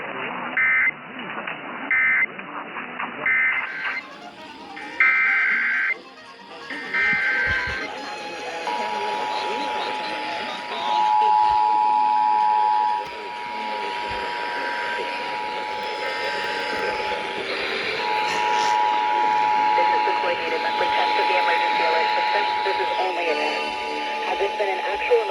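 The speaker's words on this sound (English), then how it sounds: "The attention signal you just heard would have been followed by emergency information and instructions." A Virginia Emergency Alert System attention signal during an Orange County test broadcast: a steady electronic tone runs intermittently under continuous broadcast audio, preceded by short data-burst beeps and followed by an announcer speaking.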